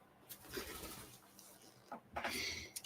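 A pet pigeon or dove gives a few soft, close coos and rustles in a quiet room, with faint bursts of sound between them.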